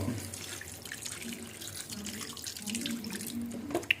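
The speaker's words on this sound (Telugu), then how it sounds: "ఇప్పుడు చికెన్ బాయిల్ అవ్వాలి కాబట్టి వాటర్ అనేది కొద్దిగా యాడ్ చేసుకుందాము" Water runs in a steady stream into a pan of chicken that has been frying for chicken biryani, a soft continuous splashing pour with a small clink right at the end.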